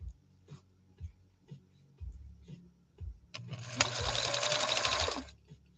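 A 1965 Husqvarna Viking 2000 sewing machine sews an ornamental stitch on vinyl, first with slow, separate thumps, then with a close, steady mechanical whir for about two seconds before it stops.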